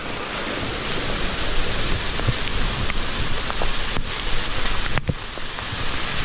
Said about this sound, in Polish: Sypnęło gradem.